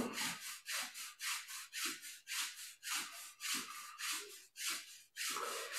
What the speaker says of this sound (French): Frotte les genoux. Verticalement.